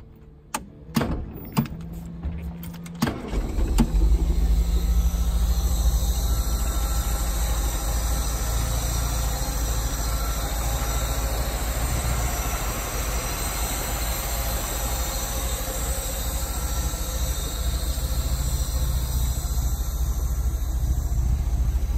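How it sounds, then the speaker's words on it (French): A 1965 Austin Healey 3000 MK3 engine cranks with a few sharp turning bursts, catches, and settles into a loud, steady idle rumble that runs on close by without talk. "on va vous démarrer la voiture."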